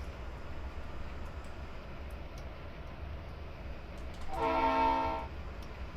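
A freight train rumbles steadily on Cajon Pass in a railroad simulation game, then its horn sounds one sustained blast lasting about a second near the end.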